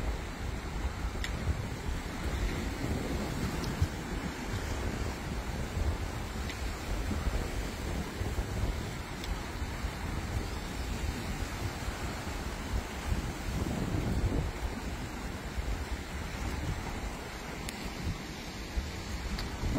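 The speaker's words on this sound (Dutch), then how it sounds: "Zie dit hoe hoog die golven slaan." High sea waves crash and surge in a strong wind, a continuous roaring wash with buffeting wind noise over the microphone throughout, with no voices.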